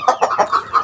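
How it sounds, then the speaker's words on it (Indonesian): A Madura native chicken, a meat-type village hen bought at a market, clucks in five quick bursts, close and fairly loud, with no talking. "Nah, ini ayam Madura tulen."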